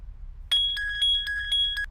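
A telephone rings in a film scene with a sharp electronic trill, a rapid pulsing burst starting half a second in and lasting over a second, loud and close above a low background hum.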